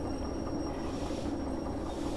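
A DE2 locomotive with cars coupled behind it rumbles along in Derail Valley, a steady, low rolling noise with no pauses or voices.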